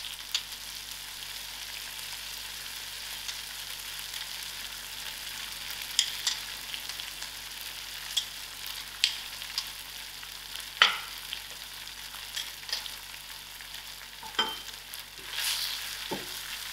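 Ground masala spices for aloo gobi fry in a pan with a soft, even background sizzle, now and then broken by faint clinks and stirring sounds, with no voices.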